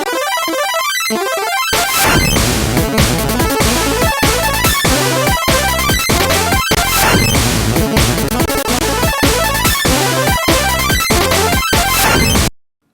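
Game Boy chiptune part sped up to double pace with added echo, a dense, loud and continuous stream of bright electronic tones with a driving rhythmic pulse, filling the whole stretch before cutting off abruptly.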